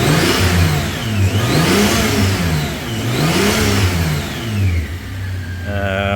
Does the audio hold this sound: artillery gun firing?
no